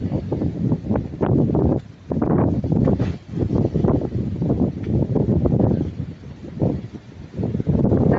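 Strong habagat monsoon wind batters the microphone on the Batangas coast in loud, gusting rumbles that surge and ease, with short lulls between blasts.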